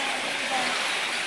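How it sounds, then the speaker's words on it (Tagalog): Heavy Christmas rain pours down in a steady, loud, unbroken hiss with no pauses. "sobrang lakas ng ulan dito"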